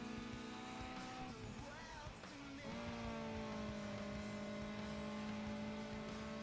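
Racing cars in the Gran Turismo 4 video game: engines hold sustained revving tones while tires squeal and skid briefly partway through, then the engine note settles into a steady drone.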